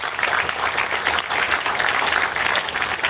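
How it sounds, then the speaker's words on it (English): A large outdoor community crowd at a Gwen Cherry Park event in Miami applauds loudly and continuously, a thick, even wash of clapping with no pauses. "let's give everybody a big round of applause for bringing this to our community"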